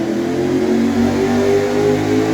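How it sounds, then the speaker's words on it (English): A GC-generation Subaru Impreza WRX rally car engine runs on a dyno, a steady, droning mid-range engine note with strong tonal harmonics, held at an even loud level and slightly distant. "So as you can probably hear in the background, we've got the car ready to go on the dyno."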